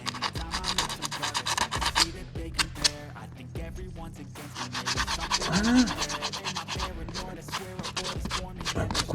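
Sanding the glued friction lining on a Tomos moped clutch, producing continuous close, rough scraping and rasping strokes with uneven rhythm and a few sharper scratches.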